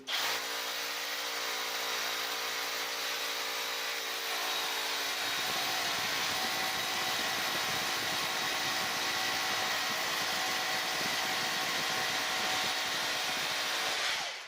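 Assur 36V 5Ah cordless hammer drill boring into a poured concrete elevator shaft wall, running continuously and loud at close range with a steady whine and rattling hammer action from start to finish.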